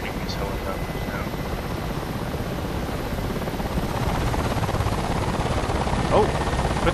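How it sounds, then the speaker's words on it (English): A Ka-50 helicopter in the DCS flight game drones with a steady, loud rotor and turbine roar throughout, slightly swelling toward the end. "I feel really bad about shooting these helicopters now."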